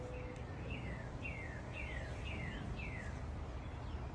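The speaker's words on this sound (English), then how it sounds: "Can you hear the birds singing?" Birds singing outdoors on a bright day, a series of repeated descending chirps fairly close against a steady low background rumble, with no voices.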